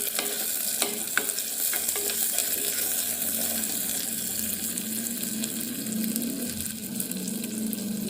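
Onions and garlic sauté in a clay pot with a steady, close sizzle and hiss, and a utensil occasionally scrapes or stirs through them.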